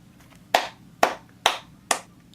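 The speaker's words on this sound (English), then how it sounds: "I don't know how else to put it besides just clapping" Hands clap four times alone, each a sharp, fairly close crack spaced about half a second apart, with near silence between claps.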